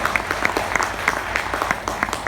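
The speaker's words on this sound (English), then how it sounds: "Big round of applause." Seated audience at a fireside chat event gives a short round of applause, clapping fairly close and steady with a few sharper individual claps standing out.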